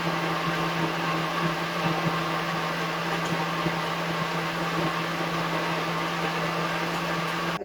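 A mixer grinder grinds appam batter of soaked rice flakes with salt, sugar and yeast, a steady loud motor whine and churn running alone throughout and cutting off at the very end.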